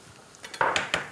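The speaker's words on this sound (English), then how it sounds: "just give it a soft stir." A utensil stirs sfoglia ravioli in a pot of boiling water, giving a few close, light clinks and knocks against the pot, three or four taps in quick succession.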